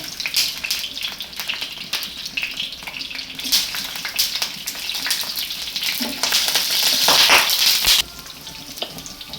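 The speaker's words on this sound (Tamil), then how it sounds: "அதில் எண்ணெய் நல்லா சுட்ட பிறகு வெங்காயம் ஊற்றுங்க." Onions sizzling and frying in hot oil in a pan, with garlic already frying, for a traditional garlic thokku, a steady dense crackle that swells louder toward the end with occasional stirring.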